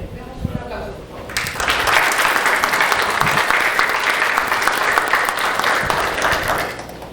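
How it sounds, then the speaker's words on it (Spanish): Audience at a Mexico City legal congress breaking into sustained applause that swells quickly and holds steady for several seconds, following a brief spoken introduction. "Demos un aplauso, por favor."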